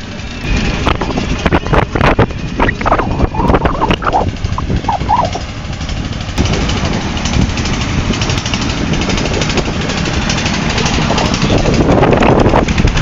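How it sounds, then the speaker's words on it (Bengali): A trawler boat loaded with bricks and sand passes beneath a highway bridge over Chalan Beel in Tarash, Sirajganj, its engine a low continuous rumble heavily buffeted by loud wind noise throughout. "নিচ দিয়ে একটা ট্রলার যাচ্ছে"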